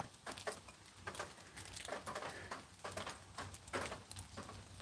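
Rain falls in woods in Georgia, a soft, steady patter with scattered sharper drips, faint and even throughout.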